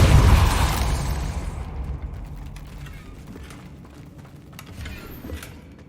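Depulso is cast in the wizarding game Hogwarts Legacy, opening with a loud forceful burst that gives way to creaking, ratcheting mechanical clatter as something shifts and settles, fading gradually with a few scattered clicks and taps.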